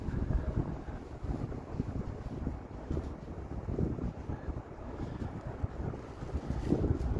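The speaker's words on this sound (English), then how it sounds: "Feels a bit windier walking west again here" Wind buffeting a microphone while walking outdoors through Toronto on a Monday evening, a steady low rumble with gusty swells throughout and no speech.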